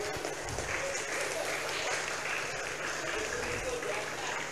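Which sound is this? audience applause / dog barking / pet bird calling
audience applause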